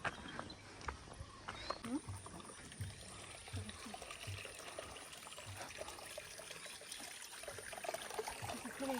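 Water trickles and dribbles steadily from a hot spring in the background while people talk nearby, with a few louder knocks and splashes.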